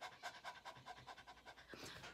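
Dog-pant breathing done as a vocal warm-up exercise: a human voice imitates a panting dog with quick, rhythmic breathy huffs, about eight in two seconds, close and soft.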